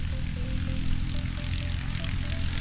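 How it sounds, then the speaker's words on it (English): A loud motorbike passes nearby outdoors, its steady engine drone holding a low rumble throughout with no talking over it. "Like this motorbike who's loud and I'm trying to record a video."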